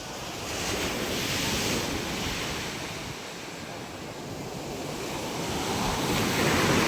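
Heavy ocean surf at a fish terminal in Tanza, Cavite, roars continuously with rising and falling swells, buffeted by strong wind noise across the microphone; no voices.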